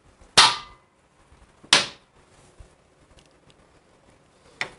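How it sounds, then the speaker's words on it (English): Two sharp metallic hammer taps on the edge of a sprocket on a Harley-Davidson Panhead's tapered shaft ring out about a second apart, followed by a fainter third strike, in an otherwise quiet space. "just tap it on the edge with a hammer"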